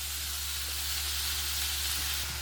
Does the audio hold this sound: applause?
no